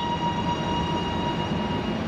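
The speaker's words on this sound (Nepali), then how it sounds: "यो आएर टेस्ट ट्रेन रहेछ एकदम खाली" A metro test train pulls into a station platform in Melbourne, its steady rumble filling the space with a constant hum and faint high whine, close and continuous throughout.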